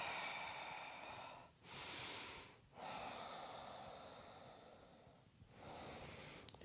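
Strong, forceful breaths during a hatha yoga flow with the hands raised in Prana Mudra, three long rushing exhalations separated by brief pauses, close and loud with no talking.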